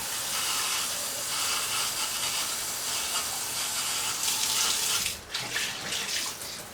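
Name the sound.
water being poured onto soaked sprouting seeds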